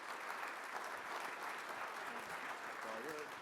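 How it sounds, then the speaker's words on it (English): Audience applause for a university panel on big data and innovation at a morning session, steady broadband clapping throughout, with a voice starting to speak over it near the end. "why don't we give them a big round of applause to get them going this morning"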